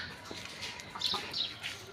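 Domestic chickens on a small backyard poultry farm cluck continuously at close range, with a few sharper calls standing out over steady farmyard background.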